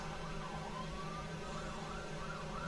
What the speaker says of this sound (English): You might be picking up sirens for a second here.